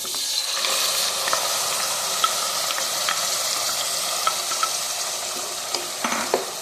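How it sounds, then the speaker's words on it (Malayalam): Onion paste sautéing in a pan for chole masala gives a continuous close sizzle, with light spatula scrapes and clicks scattered through. "ഇനി നമുക്ക് സവാള അരച്ച് വെച്ചിട്ടുണ്ടല്ലോ ആ പേസ്റ്റ് ചേർത്ത് കൊടുക്കാം"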